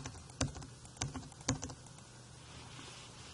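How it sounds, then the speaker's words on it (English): Fingers type a quick burst of keystrokes on a computer keyboard, three clustered clicks close to the mic, then soft fainter tapping over low room hiss. "And then if I type this all in"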